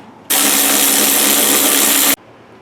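A power tool whirs loudly while backing out a 13 mm bolt that holds a car's electric cooling fan, a steady high-pitched buzz lasting about two seconds that starts and stops abruptly.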